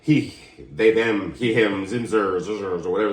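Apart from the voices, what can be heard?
No distinct noise like a dog, phone or traffic.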